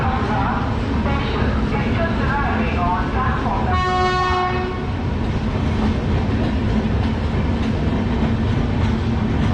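Indian Railways New Delhi–Darbhanga special train hauled by a WAP-7 electric locomotive at a station platform, with a steady rumbling roar of the train throughout and a brief horn blast in the middle, people talking nearby.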